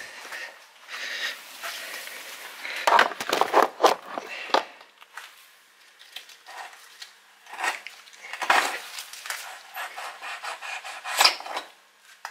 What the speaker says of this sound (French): Donc là, le but, c'est de retirer l'axe.